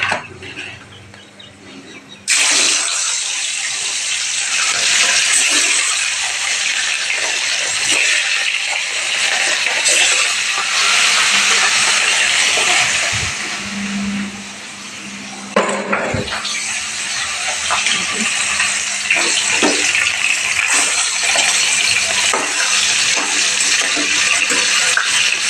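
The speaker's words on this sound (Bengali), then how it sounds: "মাছ ভাজছি, এই যে দেখুন" Large fish frying with dried chilli and salt in a lidded pan gives a loud, continuous hiss and sizzle that holds steady for about twenty-five seconds, with a short quieter lull partway through.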